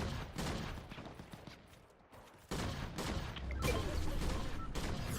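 Gunfire in the video game Dead by Daylight cracks out in dense, rapid bursts, loud and close. It fades briefly in the middle, then returns as sustained, heavy shooting.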